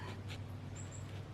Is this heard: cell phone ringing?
no